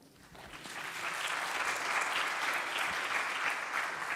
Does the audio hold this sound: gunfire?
no